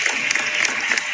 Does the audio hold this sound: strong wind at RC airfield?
no